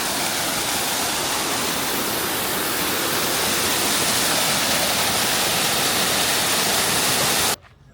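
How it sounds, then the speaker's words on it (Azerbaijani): Waterfall near Lerik in Azerbaijan's green southern region, a loud, steady broadband rush of falling water that stops abruptly at the very end. "Burada şəlaləli budur."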